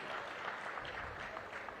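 Audience clapping in congratulation at a political speech event in Gudivada, a dense wash of many hands sounding steadily for a short stretch.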